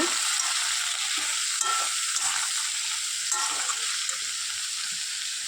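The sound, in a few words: ridge gourd being stirred and fried in a pan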